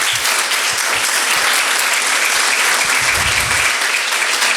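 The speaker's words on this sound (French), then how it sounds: "je pense qu'on peut vous applaudir" Conference audience applauding, dense continuous clapping from many hands, loud and sustained throughout without any talking.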